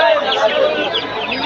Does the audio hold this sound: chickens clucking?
yes